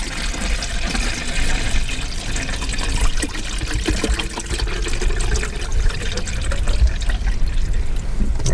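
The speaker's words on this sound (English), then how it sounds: "So now we're going to pour in our stop bath," Plain water, 1,000 ml of it, is poured into a film developing tank as a stop bath, making a steady, close splashing and trickling that runs on without a break for the whole stretch, with no talking.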